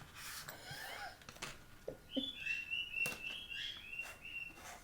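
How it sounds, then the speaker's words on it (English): Birds chirp faintly in the background, short high tweets and a thin warbling call surfacing briefly over quiet room noise and soft breathy sounds. "Do y'all hear the birds?"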